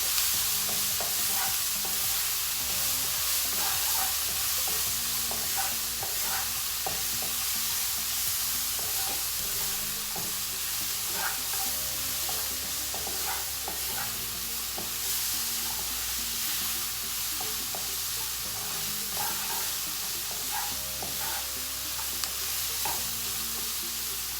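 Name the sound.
vegetables stir-frying over medium heat for fried rice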